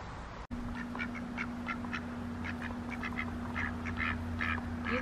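Ducks quack in repeated short bursts, close by and fairly loud, over a steady low hum and background noise; one brief dropout comes near the start.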